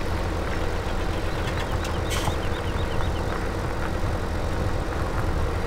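A Case T8 320 tractor engine idles in Farming Simulator 2017, a steady low rumble that holds constant and fairly loud throughout, with faint high clicks and chirps on top and no talking.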